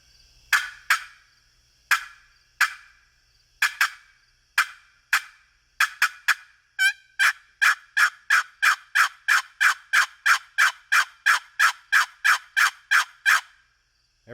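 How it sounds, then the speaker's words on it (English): Wooden turkey box call worked by pressing down on the lid and popping it, giving sharp, close clucks, scattered at first, then a fast, evenly spaced run of about twenty raspy yelps, no voices. "The clucks, I'm just putting down pressure on the lid and popping them."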